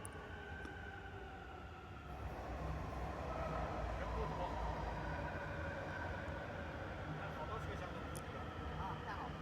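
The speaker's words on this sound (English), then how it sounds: "So it was back to that subway again." Steady rumbling drone inside a moving Beijing subway train with a sustained low roar, rising slightly after the first couple of seconds; people talk faintly underneath.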